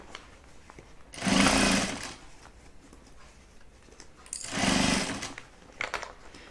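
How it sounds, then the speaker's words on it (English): Two short, loud bursts of a sewing machine stitching a fabric bag, each lasting under a second with a quiet pause between and faint handling noise after. "And just start sewing"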